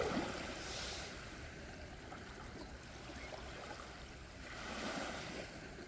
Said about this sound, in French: Des vagues très douces qui vont et qui viennent, mouillant vos orteils.